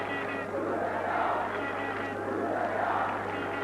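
A Romanian football crowd at a 1990 Cup Winners' Cup match between Steaua and Glentoran roars and cheers as their side attacks, a dense, sustained stadium swell that rises and falls without pause.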